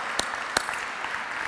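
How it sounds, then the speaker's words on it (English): A ballroom audience applauds young dance couples called onto the floor at a dance camp lecture, a steady wash of clapping with a couple of sharper, louder claps standing out near the start. "It's a big applause"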